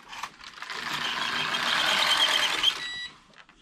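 A Passap DM80/E6000 knitting machine carriage sliding across the needle bed on an empty row, a steady close mechanical whirring sweep lasting about three seconds that ends with a soft clunk, no talking.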